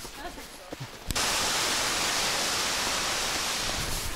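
After a second of quieter outdoor sound on a wet winter forest hike, a loud, steady roar of rushing, falling water from Norvan Falls suddenly fills everything and holds constant.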